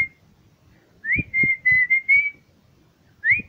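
A person whistles a short tune, a few sustained and rising notes with brief gaps between them, close and clear with no talking.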